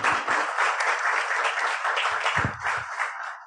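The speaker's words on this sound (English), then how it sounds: "Give our panel a round of applause for being here today." Applause breaks out for a jazz business panel at a Kansas City event, a crowd clapping steadily and moderately loud for a few seconds with a few low thumps near the end.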